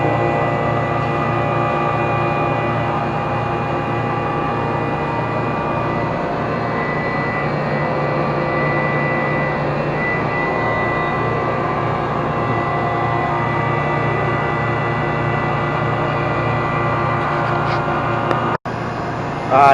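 A vacuum pump evacuates a walk-in freezer's refrigeration system with a loud, constant mechanical drone and a steady harmonic hum, unchanging for about twenty seconds before a brief click near the end.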